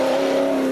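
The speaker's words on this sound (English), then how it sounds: "That car was the NWM Ford Ranger of Jacques Van Tonder and Sammy Redlingace" An NWM Ford Ranger rally race truck at the Parys 400 rally drives by with a loud, steady engine drone, close and continuous, with no talking.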